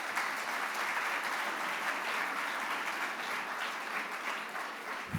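An audience at an academy's diamond jubilee celebration breaks into loud, sustained applause, a thick continuous roar of many hands clapping without pause.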